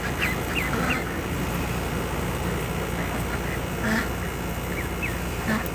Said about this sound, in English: There's my bigger ducks.